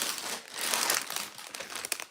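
A plastic bag of Lego Concorde parts, one bag nested inside another, is handled and pulled open, giving a close, busy crinkling that swells in the middle and ends in a few sharp rustles.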